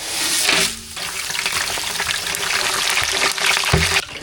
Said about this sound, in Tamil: இந்த வந்து பிரியாணி தாளிக்க போகிறோம் பிரியாணி தாளிக்கிறதுக்கு என்ன சூடாயிடுச்சு பட்டை வகையெல்லாம்